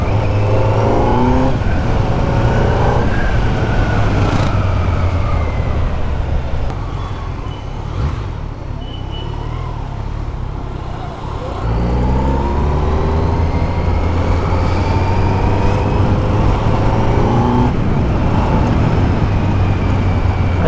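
A Kawasaki Z900 motorcycle engine runs steadily and loud for about twenty seconds, held below 4000 RPM, with rising and falling revs, a brief easing off midway and then a fresh pull, and no talk over it.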